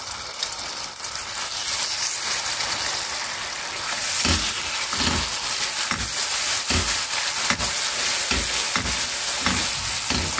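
Melted butter is stirred in a pan with sugar for a chocolate hemisphere dessert, giving a steady sizzle with rhythmic scraping strokes that grow regular and distinct in the second half. No voices.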